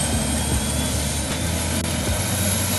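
A helicopter flying over water gives a loud, continuous engine and rotor roar with steady low thumping, heard from close by, as from inside the cabin, with no talking.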